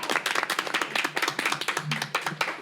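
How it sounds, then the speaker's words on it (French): A studio audience claps in dense, rapid applause welcoming a guest, with sharp overlapping hand claps filling the whole stretch at steady loudness and no talk. "Je vous demande d'applaudir Louise qui vient d'entrer dans le studio."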